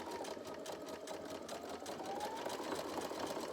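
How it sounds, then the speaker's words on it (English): A sewing machine runs a zigzag stitch on 100% cotton fabric, a quiet, steady rapid mechanical chatter that continues without a break, with no speech. "if you fold it under and then just do a quick little zigzag stitch there"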